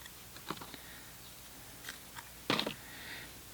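Scissors snip through a short length of crinkled seam binding ribbon, giving a few quiet crisp cuts followed by one louder, sharper snip, close up with no talking.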